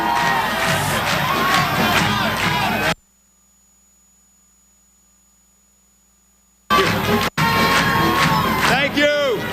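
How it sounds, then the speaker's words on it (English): A huge crowd at a 2002 Republican election night rally in Minnesota roars and cheers loudly, breaks off into near silence with a faint steady tone, then bursts back into loud cheering and shouting. "A huge crowd gathered."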